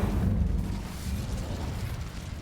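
Fire and blast spells in the game Hogwarts Legacy go off as a loud burst of rumbling explosion that fades into a crackling, roaring tail, with no talking over it.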